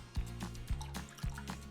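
A quarter cup of water pours into a marinade of vegetable oil and lemon juice or vinegar, giving a brief, close liquid splash and trickle with a few soft drips at a low level.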